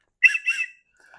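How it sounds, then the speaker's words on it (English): Two short, shrill blasts from a scuba safety whistle in quick succession, loud and close, followed by a faint trailing tone. "So I always keep a whistle attached to the bottom of it just in case."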